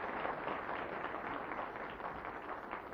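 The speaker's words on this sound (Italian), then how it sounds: "Un applauso, donna Maria." Studio audience applause for Donna Maria on the Italian TV show Portobello, 1981: a steady, dense wash of clapping that holds at an even level for the whole stretch, with no talk over it.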